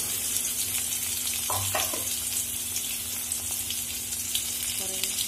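Whole green chillies and onions frying in a pan for spicy chilli idli, with a constant loud sizzle and a few brief stirring knocks, nobody speaking.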